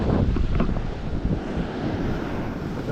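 Large ocean swells roll onto the shore under heavy, gusting wind that buffets the microphone, a dense, loud roar of surf and blustery noise with no pause.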